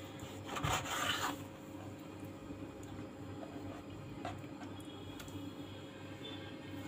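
A knife cuts beef kidneys on a board with a short, close scraping rasp near the start, then faint scattered taps over a steady low kitchen hum.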